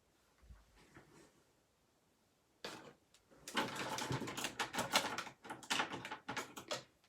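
Scissors cutting paper tails for a handmade stamped card: faint handling at first, then a quick series of close, crisp snips and rustles.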